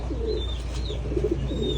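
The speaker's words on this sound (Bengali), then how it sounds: "ইসমাইলের এখানে অনেক কবুতর ছিল" Soft, low pigeon cooing repeating in gentle throaty phrases over a steady low hum, with faint higher chirps in the background.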